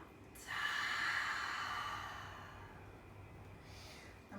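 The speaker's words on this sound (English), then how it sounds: "take a deep breath in and a deep breath out" One deep breath in and a slow breath out, close and breathy, with a long, gradually fading exhale and a faint second breath near the end, no talking.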